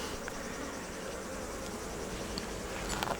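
Bees buzzing around near their nest in the open, a steady dense drone of many insects close by with occasional louder passes, no talking.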